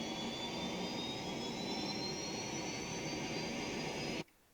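Jet engine roar from a Milviz Boeing 737-200 in the Prepar3D v4.5 flight simulator, a steady loud broadband whine with rising high tones, holding constant before cutting off abruptly near the end.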